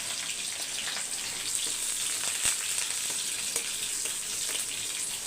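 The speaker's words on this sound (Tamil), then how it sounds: "பொறிஞ்சிருச்சு பச்சை மிளகாய் சேர்த்துக்கோங்க கருவேப்பிலை சேர்த்துக்கோங்க பூண்டு தட்டி வச்சுருக்கோம் அதையும் சேர்த்துக்கோங்க" Green chilies, curry leaves and crushed garlic sizzle in hot oil, a continuous bright crackling hiss with a few sharp pops, fairly close and with no voices over it.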